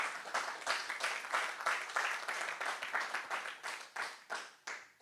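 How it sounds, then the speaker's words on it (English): An audience at a Brighton data forum on Google Cloud technologies applauds two talks, with a quick, even patter of many hands clapping that is fairly faint and distant and tapers off after about five seconds. "So let's give another round of applause for our amazing two talks."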